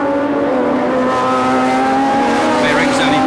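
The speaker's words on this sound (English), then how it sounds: "Extraordinary scene, isn't it, to see these cars racing in the streets." Formula One cars at the 1976 United States Grand Prix West, a street race through Long Beach: a loud, sustained high engine whine with steady harmonic tones that holds without a break.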